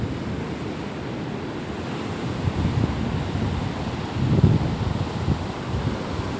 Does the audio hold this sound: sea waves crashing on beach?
yes